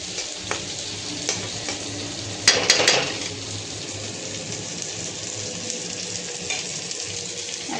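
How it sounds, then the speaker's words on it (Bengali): Rice fries in ghee in a pan for a Bengali bora chal dish, giving a steady, loud sizzle throughout, with a brief clatter of stirring near the middle. "এখানে ঘি দিয়ে আলাদাভাবে আমি ফ্রাই করে নিচ্ছি"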